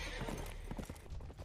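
Horse hooves clip-clop in a quick galloping rhythm in the Attack on Titan anime, loud and close, with a faint voice underneath.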